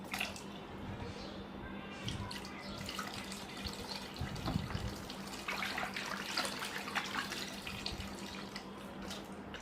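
Water pours steadily from a container in a home setting, a continuous splashing and trickling stream heard close up at low level, with faint background voices.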